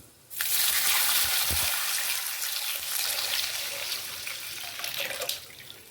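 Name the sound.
water being poured into pot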